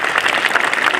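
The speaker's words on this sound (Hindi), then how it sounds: "सारे बच्चे अपने लिए तालियां बजा दो।" A group of schoolchildren claps for themselves at a youth group gathering, a short, loud burst of dense clapping.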